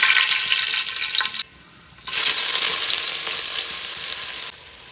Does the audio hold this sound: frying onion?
yes